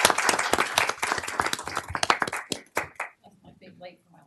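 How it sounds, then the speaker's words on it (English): Applause at a city council meeting, a burst of clapping from those present that thins out after a few seconds into scattered claps, followed by quiet room sound and faint voices. "So can we give a round of applause for Rika?"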